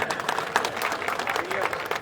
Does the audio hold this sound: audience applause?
yes